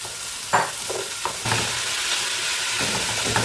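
Onion, celery, potato and carrot fry in olive oil, a loud close sizzle broken by a few stirring scrapes, with no voices.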